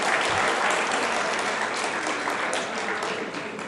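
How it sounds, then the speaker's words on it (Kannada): Audience applause fills a Kannada stage comedy show: a dense, steady burst of clapping from a large crowd, loud and sustained for several seconds before easing slightly near the end. "ಅದಕ್ಕೊಂದು ಚಪ್ಪಾಳೆ."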